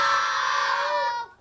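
A crowd of school children screams together on a count of three, one loud sustained shriek of many voices that holds for over a second before cutting off.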